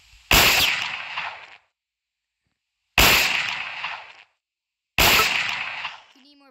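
Three sharp gunshots in a horror video game, evenly spaced about two seconds apart, each a loud crack with a brief ringing tail, separated by silence.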